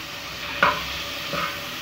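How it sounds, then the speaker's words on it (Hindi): Garlic paste frying in a pan for aloo palak gives a short, steady sizzle with a brief stirring scrape in the middle and no voices. "तो बाद में इसमें लहसुन का पेस्ट डाल दिया, पिसा हुआ लहसुन का पेस्ट। इसमें इसको थोड़ा सा भूनिए।"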